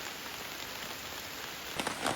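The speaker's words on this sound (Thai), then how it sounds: "ฝนก็ตกค่อนข้างที่จะ แรงแล้วนะทุกคนฟังจากเสียง" Heavy rain falls steadily in a soft, faint continuous hiss, with a few sharper drips or taps near the end.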